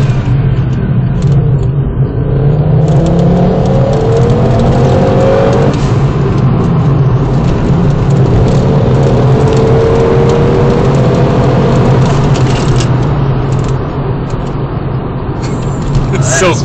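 A tuned car with an RZ Design 16G turbo kit accelerates hard toward redline, a loud steady engine drone rising in pitch across two long pulls, with people talking over it from inside the cabin.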